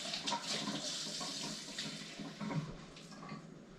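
Water pours into a measuring cup in a soft, splashy trickle that wavers in strength, fairly quiet and close, with no talk over it.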